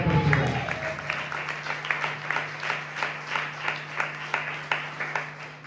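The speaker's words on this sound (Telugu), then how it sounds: "చప్పట్లు కొట్టి ప్రభువుని" A church congregation claps together during a Sunday service, a steady rhythmic applause of many hands at a moderate distance that runs throughout.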